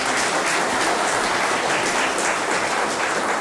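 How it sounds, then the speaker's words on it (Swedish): An audience at a Swedish accordion gathering applauds the association chairman, a dense, steady wash of clapping that holds loud and close throughout with no talk over it. "Här kommer Kenneth, vi ger honom en applåd tycker jag."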